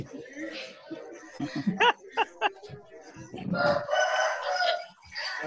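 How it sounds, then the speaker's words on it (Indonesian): A rooster crows several times in short rising bursts nearby, with people talking and chuckling around it. "Itu ayam bangko itu pasti."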